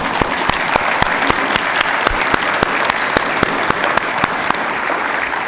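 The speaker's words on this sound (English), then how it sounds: "we can applaud today for the gifts that they bring to us" Church congregation applause for Paul and Karen, a steady roar of many hands with one close clapper landing sharp, evenly spaced claps throughout.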